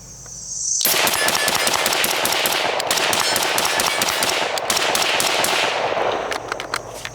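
A Steyr AUG rifle fires rapidly at a shooting range, a long string of sharp, loud cracks close by after a quiet start, with a few final shots tapering off.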